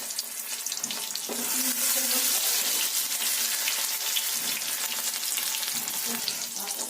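Whole cumin seeds hit hot oil with onion already in the pan, producing a loud crackling sizzle that swells after the first second and holds steady, dotted with light pops and stirring scrapes.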